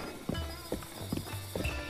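A horse's hooves clop in a steady rhythm of repeated thuds while a player rides through The Legend of Zelda: Breath of the Wild, under a droning game soundscape with no talk.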